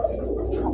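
A kokka pigeon gives a short, low coo at close range, lasting under a second.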